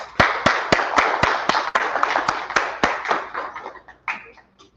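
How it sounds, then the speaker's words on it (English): A small audience at a discussion event claps in a sparse, distinct rhythm, individual sharp hand claps standing out close by, petering out into scattered final claps. "Let's give them a great round of applause."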